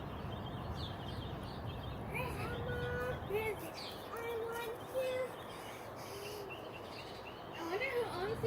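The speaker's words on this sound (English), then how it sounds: "I wonder who owns these parrots." Two parrots calling from a sycamore tree, scattered squawks and whistled chirps at middling distance over a low background hum, with a voice talking quietly.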